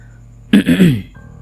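A single short throat clearing, close and distinct, over a quiet background.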